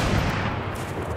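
Gunfire in the video game Fortnite, a dense continuous burst of rapid shots with a heavy low rumble filling the whole moment, loud and close, with no talk over it.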